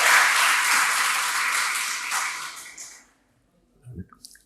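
Audience applause welcoming the founder of the Chakwal Chamber of Commerce at a trust scholarship ceremony at a college, a dense burst of clapping that fades out around three seconds, followed by a brief faint sound.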